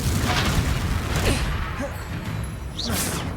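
A Confringo fire spell explodes in Hogwarts Legacy, a dull boom and whooshing burst with thumps and scattered crackling impacts, fairly loud throughout.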